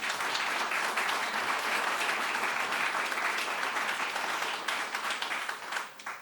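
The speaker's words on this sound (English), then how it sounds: "I think you can give that a round of applause." A crowd at a state government housing and lead-exposure policy event led by Governor Hochul claps in a full, steady round that tapers off during the final second.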